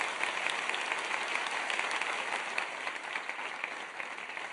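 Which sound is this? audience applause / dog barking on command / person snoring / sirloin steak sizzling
audience applause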